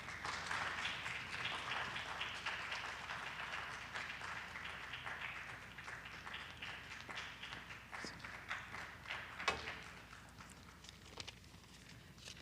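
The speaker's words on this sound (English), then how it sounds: "if we could kindly give a warm round of applause" Sustained crowd applause, many hands clapping in a dense steady patter that holds throughout, with a few sharper claps near the end.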